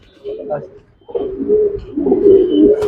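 Pigeons kept for sale coo close by in low, throaty rolling bursts, a short call first, then a longer run of overlapping coos after a brief pause.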